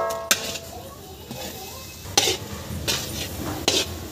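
Coconut laddoo mixture with cardamom powder stirred over low heat in a pan, giving a few distinct scraping clinks of a spoon against metal over a soft background hiss, close by.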